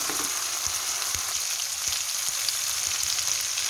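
Tomatoes fry in a pan for an egg masala, giving a steady, close sizzling hiss that runs unbroken throughout with faint spatters and stirring taps.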